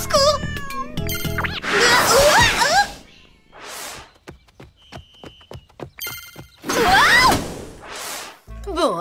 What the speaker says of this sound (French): Non mais je comprends pas encore le langage miaou.